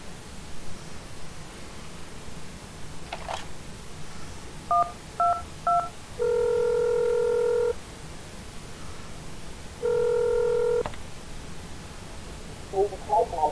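A telephone keypad is dialed in the video game Accident: several short tone beeps, then two longer sustained tones, over a low hiss, with a voice speaking briefly.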